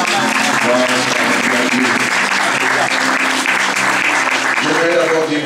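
A church congregation bursts into loud, sustained applause and cheering for the word of God, filling the hall evenly for several seconds without pause.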